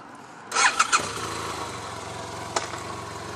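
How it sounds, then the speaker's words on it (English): A 2014–2016 BMW F800GT two-cylinder touring motorcycle cranks and fires with a few quick revving bursts, then settles into a steady, chuggy idle, close and clear, with a brief blip near the end. "Engine chuggy as usual on a 2-cylinder touring bike."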